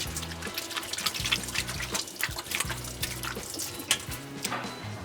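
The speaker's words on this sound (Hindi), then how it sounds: "उसके लिए हाथ अच्छी तरीके से पहले धो लेता हूँ" Running water splashes and trickles steadily at close range, with small drips and a few sharper splashes as hands are washed under a tap while preparing a Balochi date halwa.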